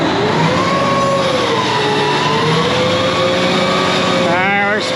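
A truck-driven high-pressure, high-flow hydraulic pump engine revs up hard from idle as the throttle is hit, a loud steady drone with rising pitch near the end, under continuous talk.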